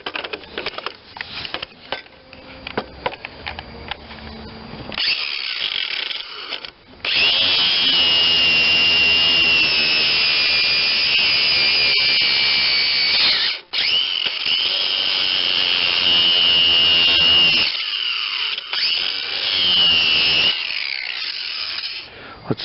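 A power grinder works the underside of a 21-inch MTD Pro self-propelled mower deck with a Honda engine. Scraping and handling sounds come first, then a loud, continuous high whine with a brief break partway through.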